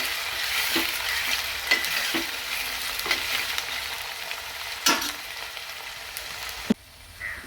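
Beetroot for pickle sautéing in a pan with green chillies and curry leaves, a steady close sizzle broken by several sharp scrapes of a stirring spoon, fading quieter near the end.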